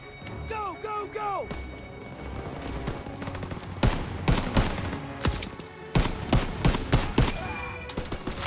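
A WWII video game battle fills with rapid machine gun bursts and scattered gunfire, loud and close, mixed with explosions and impacts, while shouted voices call out over the fighting.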